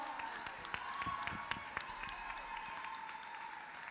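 A crowd applauds a singer's band at a 2018 book fair performance, a continuous rattle of clapping with sharper individual claps standing out, moderately close and holding steady throughout.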